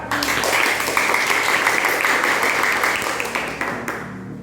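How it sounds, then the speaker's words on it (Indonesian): Applause for a student group in a primary school classroom, a dense steady patter of many hands clapping throughout, fairly loud and close, tapering slightly at the end. "Tepuk tangan kelompok 4."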